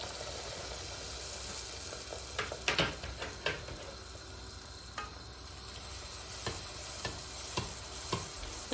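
Pişi dough fries in hot oil while oil is spooned over the top to make it puff. A steady soft sizzle is broken by sharper crackles and metallic scrapes of the spoon at intervals.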